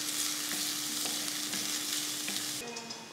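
Chopped onion and green chilli sauté in a hot pan with a steady, close sizzle that crackles throughout. A few soft stirring knocks punctuate it before the sound thins near the end.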